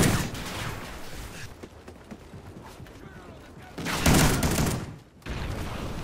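Shotgun loaded with slug rounds and fitted with a foregrip firing in Call of Duty Ghosts, a few heavy blasts with mechanical clicks between them, mid-distance and moderately loud.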